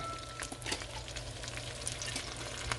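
Onions fry in melted butter in a home kitchen pan, giving a soft, continuous sizzle with scattered small pops and crackles, fairly faint and heard alone.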